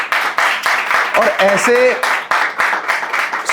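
An audience at a Hindi poetry recital by a poet claps in a steady wash of applause, with someone speaking over the clapping.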